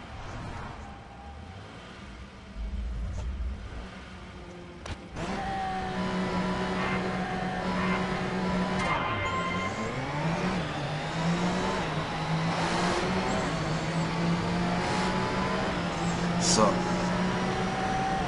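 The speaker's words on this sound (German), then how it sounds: "Ich darf den verkackten Porsche wieder fahren." A Porsche racing car at Le Mans in the Grid racing game drones continuously, its engine pitch rising and falling through revs and gear changes, with a voice talking over it.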